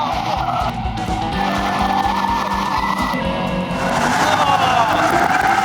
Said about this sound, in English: It's now all about getting our drift on, chasing down here, handbrake on the way in.